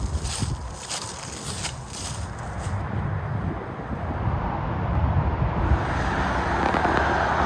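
A steady low rumble of distant M56 motorway traffic in the Cheshire countryside, growing slightly louder, with wind and footsteps nearby.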